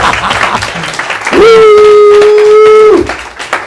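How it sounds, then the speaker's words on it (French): A church congregation applauding, a steady wash of clapping and crowd noise with a sustained held sung or shouted tone over the middle, loud and close. "Applaudissez-moi un peu, Jéhovah."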